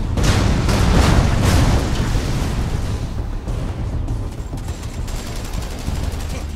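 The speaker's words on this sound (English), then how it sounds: "these cannons!" Heavy cannon fire booms in rapid succession in Warhammer 40,000: Dawn of War III, loud and close at first, then continues as a rumbling barrage with sharp blasts.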